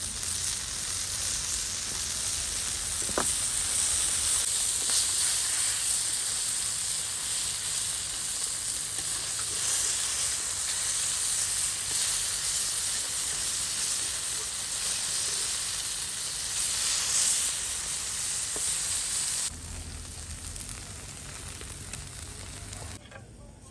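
Fish fries in coconut oil over a wood-fired stove, Mangalore style, with a loud, continuous hissing sizzle that holds for about twenty seconds, then drops noticeably quieter near the end.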